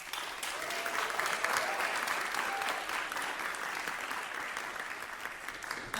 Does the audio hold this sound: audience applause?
yes